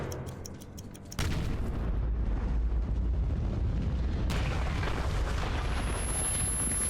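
Explosions in the video game Metro 2033 break out after a few faint ticks, becoming a loud, sustained roaring rumble that surges again partway through.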